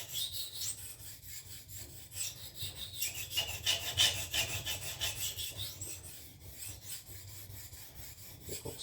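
Knife blade drawn steadily across a sharpening stone, a continuous rasping scrape of repeated strokes, close and fairly quiet, with no voices.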